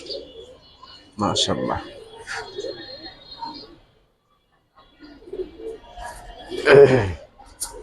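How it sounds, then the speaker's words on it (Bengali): Giribaz pigeons coo in soft, throaty bursts, close by, with someone speaking briefly between the calls. "এগুলো কিন্তু নতুন কবুতর ভাই"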